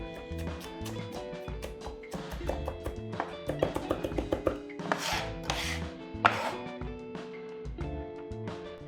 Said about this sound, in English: now we're going to mince some garlic just with the side of the knife.